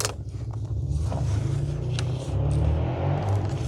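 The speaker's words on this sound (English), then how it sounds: "Somebody's working on their derby car, or a demolition derby car. It is loud." A demolition derby car engine runs loud and steady in the background near a spread footer setup site, a continuous low rumble with slight rises as if revving.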